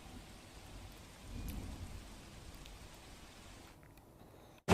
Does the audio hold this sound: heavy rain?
yes